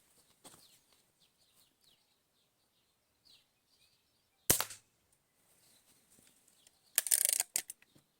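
Two sharp, loud shots from an IZh-53M air pistol stand out, spaced a few seconds apart, each a crisp snap with a short tail, amid faint background noise and scattered small clicks.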